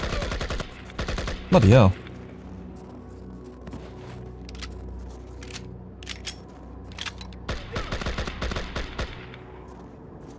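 Gunfire rings out in the Project IGI game, with sharp bursts at the start, scattered single shots, then another rapid burst near the end, loud and close, and someone briefly speaks between shots.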